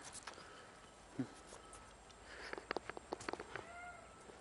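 A cat meows faintly in a fantasy elf-realm video game, with a short call followed by a cluster of brief chirpy sounds over a quiet, hissy game background.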